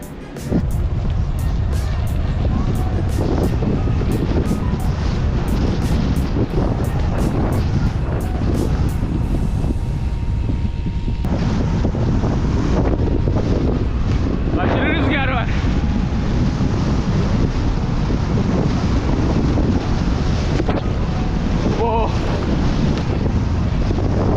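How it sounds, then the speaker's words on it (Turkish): Strong wind buffets the microphone in a steady, loud roar during a street ride in Beylikdüzü, with water and waves faintly beneath it. "Fazla rüzgar var çekmedim."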